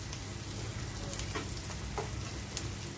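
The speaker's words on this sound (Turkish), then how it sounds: "Kokusu çıkana kadar kavuracağım salçamı." Tomato and red pepper paste frying in a pan, a close, continuous sizzle with a few soft scraping stirs, with no voices.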